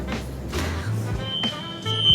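Store alarm going off inside a Walmart during pre-Christmas grocery shopping, a steady high electronic tone that holds through the clip over low store rumble and shopping noise.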